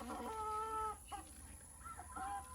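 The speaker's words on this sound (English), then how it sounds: "Keith, that's a rooster." Chickens on a Florida farm give a run of clear, close clucks, with a brief pause partway through, over a steady low background hum.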